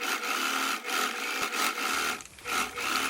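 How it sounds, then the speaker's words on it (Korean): Sewing machine stitching the shoulder seam of a hooded sweat jacket, a steady buzzing whir in repeated bursts with short pauses between runs, loud and close with no talking. "어깨에 시접선을 먼저 박음질을 합니다."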